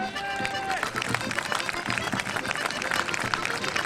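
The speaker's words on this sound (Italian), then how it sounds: "vi chiederei di fare un applauso a Carletto Pilleri" Crowd applause at the Is Pariglias horse festival in Sinnai, a dense burst of clapping mixed with murmuring voices and background hubbub in an outdoor gathering.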